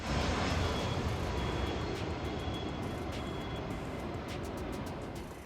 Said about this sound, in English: there's a plane landing in the background